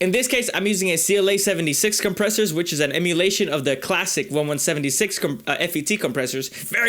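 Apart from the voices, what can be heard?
No everyday noise stands out behind the speech.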